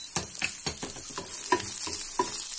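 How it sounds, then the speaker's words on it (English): Garlic sautéing in a pan for a carrot sabji, with repeated clattering stirs of a spatula against the pan over a steady, close sizzle. "Saute this garlic a little bit."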